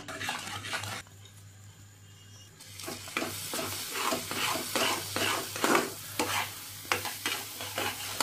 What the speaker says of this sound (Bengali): ওই ম্যাঙ্গো রসটা কড়াতে ঢেলে খুন্তি দিয়ে ভালো করে নাড়তে থাকতে হবে